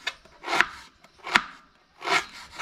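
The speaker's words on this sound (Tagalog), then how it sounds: "Gayak-gayak tayo ng luya para sa ating sinabaw" Ginger being sliced with a knife for soup: three separate scraping, rasping cuts spaced about a second apart, close and fairly loud, with no talk over them.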